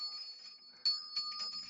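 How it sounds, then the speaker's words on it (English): A small bell rings with a clear, sustained metallic tone, faint and close, struck again partway through so the ring swells briefly before fading. "Let me first ring my bell."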